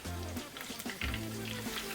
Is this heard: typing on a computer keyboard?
no